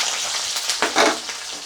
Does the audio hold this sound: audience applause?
no